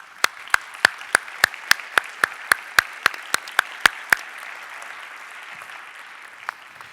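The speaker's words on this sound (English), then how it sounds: "A warm applause from the audience," Audience applause closing a panel session on urban air mobility: a few sharp, close hand claps in a steady rhythm ring over softer diffuse clapping, stopping after about four seconds and leaving a quiet room tone.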